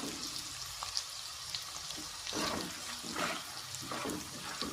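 Steady crackling sizzle of spices and chillies frying in hot oil for a Karnataka churumuri snack, a close, continuous hiss with brief louder bursts of spitting throughout.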